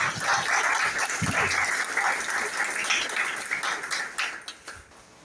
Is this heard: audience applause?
yes